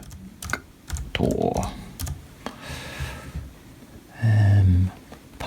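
Typing on a computer keyboard, short bursts of clicky keystrokes with brief pauses, close and clear, with faint talk and a louder thump near the end.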